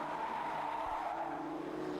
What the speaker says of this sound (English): Plenty of tyre screaming going on